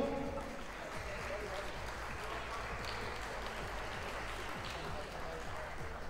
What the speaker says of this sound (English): another big hand for your four finalists